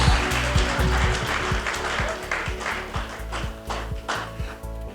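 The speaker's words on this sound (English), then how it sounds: "One more round of applause for all of our participants." Audience applause closes a fall small business program showcase in Northwest Ohio, a steady patter of clapping with some sharper taps over a faint tonal background, fading slightly toward the end.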